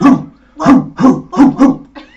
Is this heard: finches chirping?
no